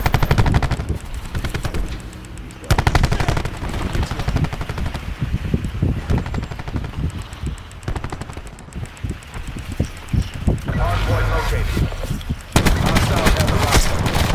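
Rapid automatic gunfire and explosive bursts from a competitive video game match, dense and continuous across the whole stretch with speech mixed in.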